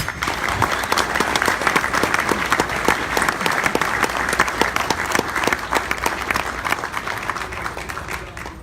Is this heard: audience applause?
yes